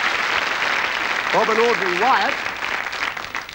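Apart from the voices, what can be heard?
audience applause on game show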